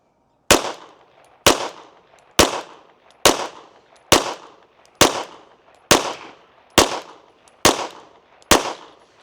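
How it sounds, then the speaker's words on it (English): Ten evenly spaced gunshots fired at a target, each a sharp loud crack with a short decaying tail, spaced about a second apart with no talk. "We're going to shoot a group at the bottom left target."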